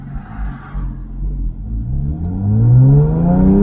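Porsche engine accelerating hard, a close rising rev whose pitch climbs steadily over a low rumble, growing louder toward the end.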